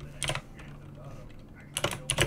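Fingers type code on a computer keyboard in two quick clusters of close, crisp key clicks separated by a short quiet pause.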